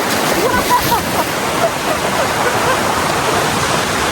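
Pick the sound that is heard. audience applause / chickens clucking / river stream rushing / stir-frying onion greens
river stream rushing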